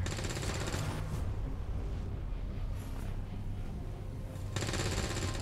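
Sustained suppressing gunfire in the XCOM 2 video game, a dense, continuous rattle of automatic fire that stays loud for several seconds with a sharper burst at the end.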